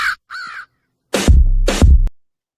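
A crow sound effect plays two loud, harsh caws close up, preceded by two fainter calls, then silence.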